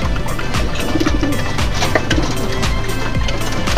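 A flock of pet racing pigeons feeding together, with steady cooing and soft pecking and fluttering sounds throughout, busy and close.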